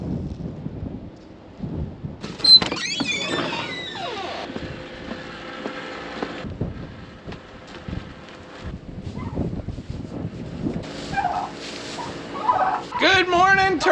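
Turkeys gobbling on a farm on a very windy day, several rapid warbling gobble calls breaking out at intervals over gusting wind noise and low rumbles.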